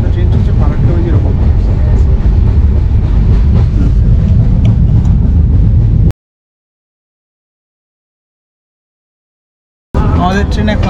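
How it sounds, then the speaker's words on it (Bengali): Shatabdi Express leaving New Farakka Junction toward Howrah: a loud, continuous rumble of wheels and carriage noise, broken by about four seconds of complete silence before the rumble returns. "আমাদের ট্রেন এখন নিউ ফারাক্কা জংশন থেকে ছেড়ে হাওড়ার দিকে আবার রওনা দিয়েছে।"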